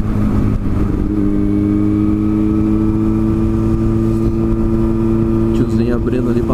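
Yamaha FZ6 Fazer motorcycle riding along, its engine droning loudly and steadily close to the microphone, with a rising pitch change near the end as the bike accelerates.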